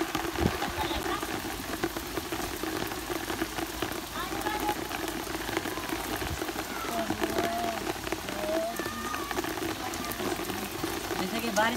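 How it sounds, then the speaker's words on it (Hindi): Heavy rain pours steadily on surfaces around a rooftop in Hyderabad, a dense continuous hiss and patter with some faint voices in the background. "बारिश का मजा हम ले रहे हैं हैदराबाद में"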